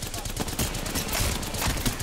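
Gunfire from other squads in the battle-royale shooter Apex Legends: dense, rapid, overlapping shots and bursts crackling throughout, loud and continuous.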